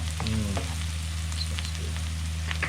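Garlic frying in a pan, a continuous close sizzle over a low hum, with a brief tonal sound near the start and a few light clicks.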